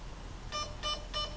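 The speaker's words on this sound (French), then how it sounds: "Premier bip, premier mode." Three short electronic beeps from an airsoft M4 gearbox control unit in an even, quick rhythm, close and clear over faint background noise.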